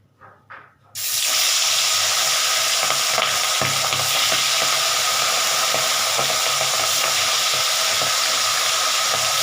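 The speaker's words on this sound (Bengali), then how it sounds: "আমার তেলটা গরম হয়ে গেছে এই মাছগুলো আস্তে আস্তে হালকা ভেজে নিচ্ছি" Pieces of hilsa fish slide into hot oil, and after a few light clinks the pan erupts into a loud, dense, continuous sizzle that holds steady with no talking.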